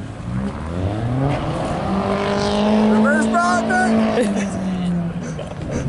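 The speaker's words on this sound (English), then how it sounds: "This dude just did a donut over there." A car spins a donut at a Paul Walker tribute car cruise, its engine revving and rising in pitch while the tires squeal loudly and continuously nearby, with crowd voices in the background.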